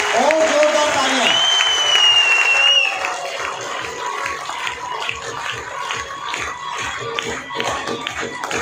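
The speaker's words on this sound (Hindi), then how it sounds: "और जोरदार तालियां।" A large seminar audience at an RCM business event bursts into loud, sustained applause, a dense wall of clapping that runs the whole time and eases slightly partway through.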